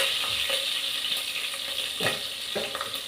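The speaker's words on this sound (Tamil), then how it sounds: "நான் இதை வதக்கிக்கிறேன்." Ingredients being sautéed in a pan for curd rice, a steady close sizzle and fry with light stirring scrapes throughout, no talking.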